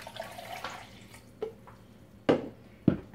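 Water poured over ice and strawberries in a blender for a Shakeology shake, heard as a few separate splashing bursts and drips against a quiet background, close by.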